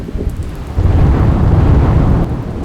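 Heavy rain pours steadily during flooding in Vadodara city, with deep, rolling thunder rumbling loudly beneath the downpour throughout.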